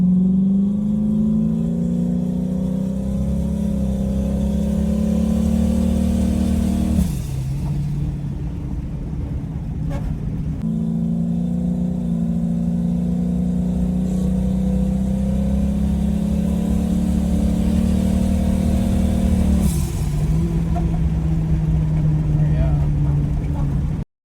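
A turbocharged LS-swapped Camaro engine revs hard under full throttle, pitch climbing steadily through each gear before dropping at the shifts, loud and close with road rumble throughout.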